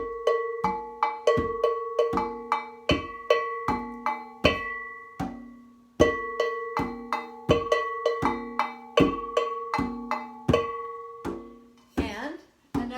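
A second Ghanaian agogo bell pitched differently from the first, played in a brisk repeating two-tone rhythm of ringing metallic strikes, close-up, with a short pause midway and a brief voice at the end.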